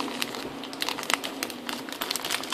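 A lemon cookie DIY kit's package wrapper is torn open close by. Busy crinkling and crackling plastic runs throughout the short stretch, with no talking.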